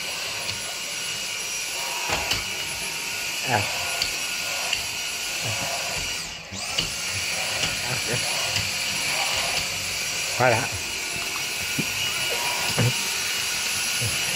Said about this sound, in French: qui passe l'aspirateur avec le Dyson